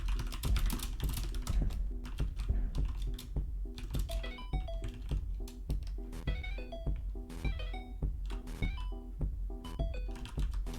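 Computer keyboard keys tapped rapidly in a competitive Tetris match, a dense stream of clicky presses under faint tinkling game tones.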